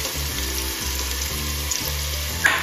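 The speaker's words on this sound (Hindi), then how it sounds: "प्याज गर्म करते वक्त हम इसमें नमक डाल देंगे" Onions sizzling in a pan over an open flame with salt added, a steady close frying hiss running throughout with low rumbling underneath and a brief clink near the end.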